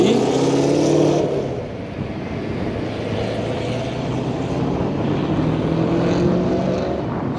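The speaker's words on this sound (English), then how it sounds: "Shelby GT350." A Ford Shelby GT350 on a track day at Homestead-Miami Speedway, its engine droning loud and close in a steady roar with a slight rise and fall, no voices over it.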